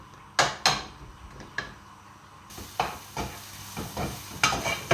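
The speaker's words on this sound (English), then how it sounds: "Now you fry up your bacon and onions till they're softened down." Bacon and onions frying in a pan for pork roulade, with a series of sharp scraping and stirring knocks from a utensil against the pan over a faint steady sizzle, close and fairly loud.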